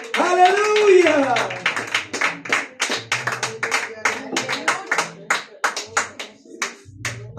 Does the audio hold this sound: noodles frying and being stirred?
no